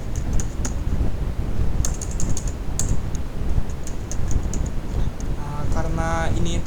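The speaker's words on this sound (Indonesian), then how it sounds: "Pertama, kita boleh ketik nama tamu," A guest name is typed on a computer keyboard in quick, irregular clusters of crisp key taps over a constant low background hiss.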